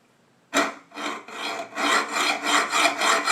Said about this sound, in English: We have our ramrod mounted on our workbench here, and we're going to use a hacksaw